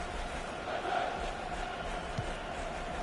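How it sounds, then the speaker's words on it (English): A stadium crowd in the FIFA 17 football video game gives a continuous, even roar, with a broad wash of massed voices holding steady throughout and no clear single shouts standing out. "the crowd's up for it"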